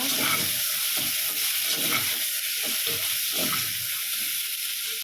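Eggplant spread into a pan with softening aromatics for a mango, eggplant and drumstick sambar, frying with a constant loud hiss and sizzle and intermittent soft stirring scrapes.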